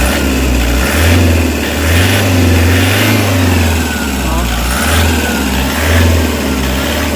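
A Toyota Hiace van engine with a freshly repaired throttle, revved repeatedly in steady swells that rise and fall about once a second, loud and close with a constant low rumble underneath.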